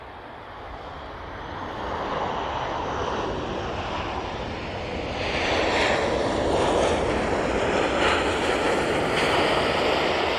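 A Ryanair airliner landing at Manchester Airport, its broad engine roar building steadily and growing louder toward the end, heard alone outdoors with no talk.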